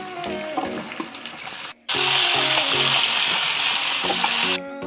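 Marinated chicken fries in oil for an Odia spinach chicken curry, giving a loud, steady sizzle that breaks off briefly and then returns even stronger and denser. No one speaks.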